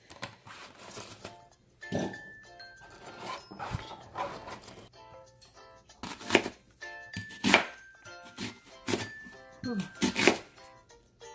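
Knife chopping a red onion on a cutting board, a series of crisp, close, uneven chops coming in bursts with short pauses between them, and no talking.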